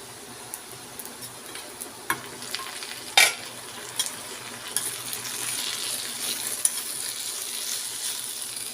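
A spatula scrapes and stirs mixed vegetables (okra, French beans, pointed gourd and potato) in a pan with light clinks, over a soft steady sizzle; no voices.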